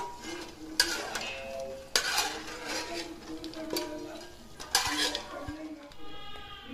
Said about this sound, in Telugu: సో నేను ఇవి పల్లీలన్నీ సైడ్ తీసేసుకొని వేరే బౌల్లో వేసేసుకుంటున్నాను